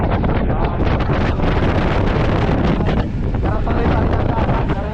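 Loud, steady storm wind roars and buffets the microphone throughout, with gusting rumble and hiss and no clear pauses.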